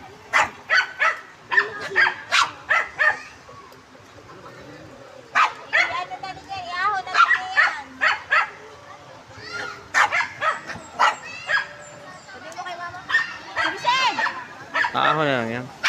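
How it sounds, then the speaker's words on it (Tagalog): A dog barks repeatedly in short, sharp bursts with whimpering yips between them. People talk nearby, and the sound is fairly close in an outdoor setting. "doon daw sa baba ang aso."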